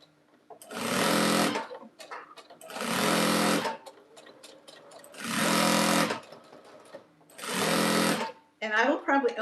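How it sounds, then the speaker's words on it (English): A sewing machine stitching long quilt seams runs in four sustained whirring bursts with quiet pauses between, loud and close, followed by a short rustle of fabric handling. "This takes more time to sew because you're sewing the whole length of the quilt."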